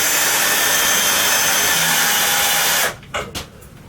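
A power drill drives a screw into scrap wood while a saw stand is being built: a loud, steady whine runs for about three seconds, cuts off abruptly, and is followed by two brief knocks.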